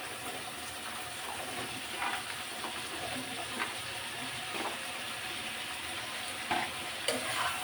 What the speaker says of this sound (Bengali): আলুটা প্রথমে কষিয়ে নিব